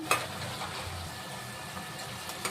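Tomato and mixed vegetables frying in oil in a pan, a soft, steady sizzle close by with a few light clicks of stirring, quiet and continuous.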